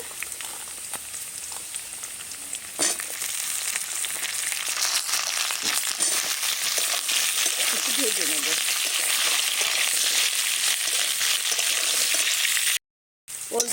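Kohlrabi, cauliflower and potato fry in a pan over a clay stove, a steady close hiss with occasional stirring scrapes, and a voice speaks briefly over the cooking.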